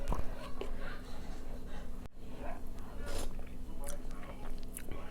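Soft chewing and biting while tasting Trader Joe's frozen Indian food, including a spicy chicken tikka masala, close to the mouth, with light murmuring talk over the quiet crunching.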